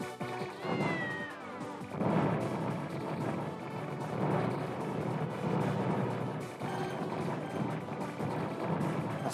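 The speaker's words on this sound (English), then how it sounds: "Have to excuse the cat noises." A domestic cat meows repeatedly with drawn-out, rising cries, mixed in with loud, busy shoot-'em-up arcade game sounds playing continuously in the background.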